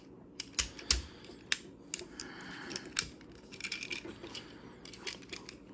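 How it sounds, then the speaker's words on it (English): Transformers Age of the Primes Prima Prime plastic toy figure being transformed, with quiet close clicks and snaps of parts folding and flipping, scattered irregularly with brief rustles. "So we're going to fold the legs out, flip out his feet, then fold the wheels in like so."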